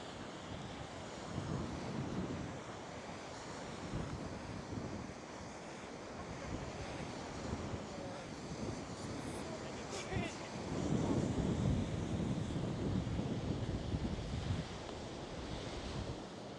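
Waves breaking on the Lake Michigan shore near Sleeping Bear Dunes, a steady broadband wash of surf mixed with gusting wind buffeting the microphone, swelling louder in the latter half, with no talk.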